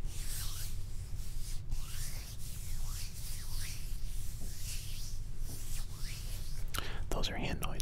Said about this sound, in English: Those are hand noises.